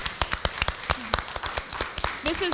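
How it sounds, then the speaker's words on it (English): Sparse applause from a small audience at a music industry conversation event, a scattering of separate claps with a voice briefly heard near the end. "give them another round of applause"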